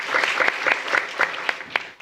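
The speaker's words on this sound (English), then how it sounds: "a round of applause for Yuri again, please." A small audience at a 2019 science communication forum gives a short burst of applause, a few seconds of moderate clapping with some sharper claps stepping out as it tapers off.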